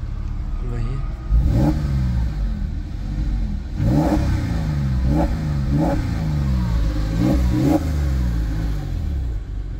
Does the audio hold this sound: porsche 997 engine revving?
yes